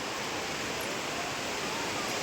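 Surf at Murdeshwar beach rolls in as a steady, dense wash of broadband rushing noise, fairly close and unbroken, with no distinct individual wave crashes.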